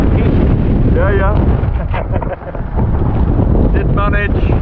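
Strong wind of roughly 40-50 mph buffets a small boat on rough seas during a fishing and spearfishing trip, a loud continuous roar with gusty rumble, and voices talk briefly through it.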